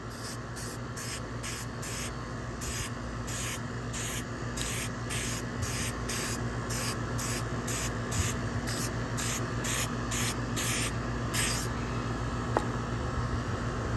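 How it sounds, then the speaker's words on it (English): Matte finish is sprayed onto painted 1/32 scale toy soldiers in short, regular hissing bursts, about a dozen in quick rhythm, close to the microphone, over a low background hum. "give it a little light spray on it and take the shine away"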